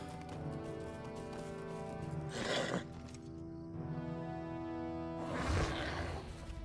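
A horse in Lord of the Rings Online neighs twice, each whinny a rough, loud burst separated by a few seconds, over a sustained droning game soundtrack.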